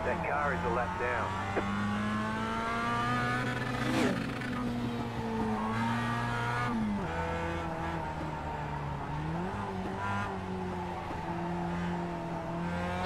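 Race car engines drone and rev on a figure-8 track in the Wreckfest video game, played in mixed-reality VR. Several engines rise and fall in pitch, with a near car's revving shifting sharply at moments, continuous and fairly loud.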